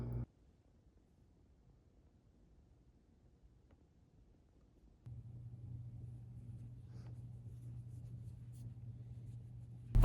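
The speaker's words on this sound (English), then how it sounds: "Waiting for my car to warm up before I head to campus." A car engine idles steadily on a cold, snowy day while warming up, a low constant rumble that starts about halfway through after near silence, close and moderately loud with no voices.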